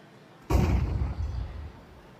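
A grenade goes off on a player in Counter-Strike: one sudden, loud, close blast that rumbles and fades over about a second and a half.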